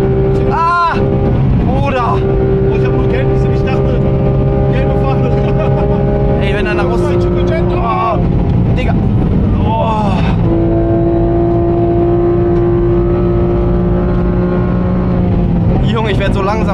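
Porsche GT3 RS engine driving on the Nürburgring, a loud continuous drone with rising and falling pitch as the car shifts and accelerates, heard from inside under people talking.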